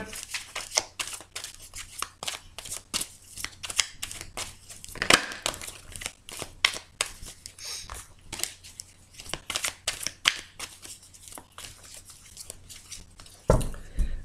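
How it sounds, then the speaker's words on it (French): A tarot deck shuffled by hand up close, giving a steady run of crisp card snaps and papery rustles with irregular, brisk rhythm and one louder flurry near the end; no talking. "Allez, je vais bien les mélanger."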